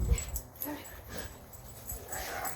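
A dog pants and chuffs in short, breathy bursts during rough play, the sounds close and irregular, with a few yips and faint movement between breaths.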